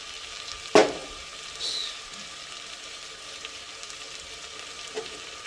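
Tomato and salt fry in a pan with a soft continuous sizzle, opened by one sharp clatter of a utensil and followed by a lighter knock near the end.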